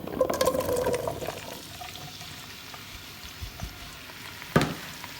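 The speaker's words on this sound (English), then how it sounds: "Okay, let's start frying." Meatball mixture with rice frying in hot oil, a soft steady sizzle and bubbling strongest at the start, settling into a quieter hiss, with one sharp clatter near the end.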